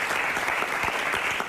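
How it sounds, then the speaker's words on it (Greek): A television studio audience gives a brief, steady burst of dense applause at a Greek music show. "Παρακαλώ, χειροκρότημα."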